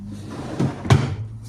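A white sliding-door wardrobe's facade panel is handled during fitting, giving two knocks, a softer one and then a sharper wooden clack, over a steady low hum nearby.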